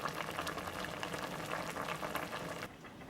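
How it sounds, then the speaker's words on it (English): A milk mixture for blue milk boils in a pot with a dense, steady bubbling and hissing that fills the space at close range, then thins out slightly near the end. "we've been boiling away for 10 minutes now"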